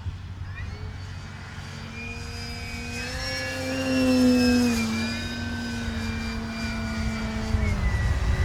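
A FLEX RV-8 60E G2 electric radio-controlled model airplane whines steadily, its pitch sliding up and then gently down as it passes, loud and close, with no talking.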